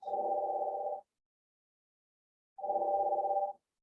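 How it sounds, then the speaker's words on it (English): A telephone rings in two identical buzzing bursts about a second long, separated by a pause of roughly a second and a half, clear and steady with nothing else audible. "1 second, the phone's gonna keep ringing."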